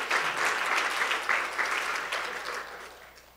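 Applause from the audience at a panel discussion rolls through steadily, moderately distant, and tapers off toward the end.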